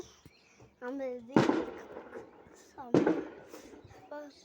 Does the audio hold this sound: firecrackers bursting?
yes